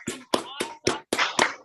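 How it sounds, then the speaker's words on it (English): Hands clap in a court session as a judge leads a brief round of applause, six sharp, separate claps in an uneven rhythm, close and clear with voices mixed in. "I want to also give her a judicial applause."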